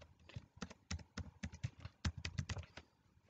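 A password being typed on a computer keyboard: soft, close key taps coming in quick irregular bursts with brief pauses between them, quiet and without any talking.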